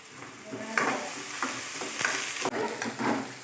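Onions sautéing in a pan for a village-style Tamil bottle gourd stir-fry, a steady close sizzle broken by several sharp scraping stirs of a spoon against the metal.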